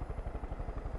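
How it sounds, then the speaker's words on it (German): A helicopter in the video game Far Cry 5, a rapid rhythmic rotor thumping, steady and moderately faint throughout. "Der Hubschrauber wackelt einfach zu viel."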